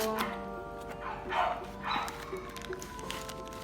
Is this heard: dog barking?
yes